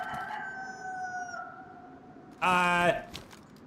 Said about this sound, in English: That chicken's going to piss me off.